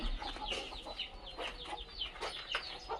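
Hens cluck close by near buckets set out for egg laying, in a quick run of short, overlapping clucks and squawks at moderate volume with no talking.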